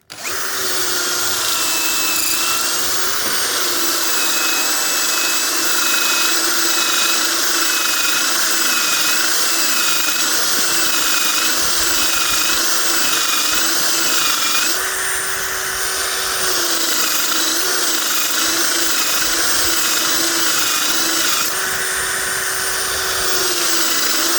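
A cordless screwdriver fitted with a grinding attachment whines steadily as it polishes a meteorite stone. The loud, continuous high-pitched drone runs throughout and shifts pitch slightly under changing load, with no talking.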